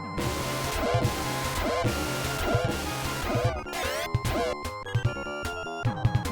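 Screechy chiptune music from the Japanese version of the Phantasy Star video game, with harsh, piercing synth tones, a steady pulsing beat and dense, busy layering throughout.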